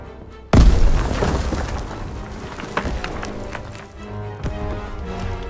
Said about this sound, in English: Toss it out a grenade!